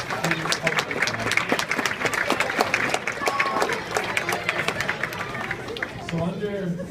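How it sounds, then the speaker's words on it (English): Applause and clapping from a crowd at a boys' travel basketball banquet, filling the room for several seconds, with voices and crowd noise mixed in under the clapping. "give him a round of applause"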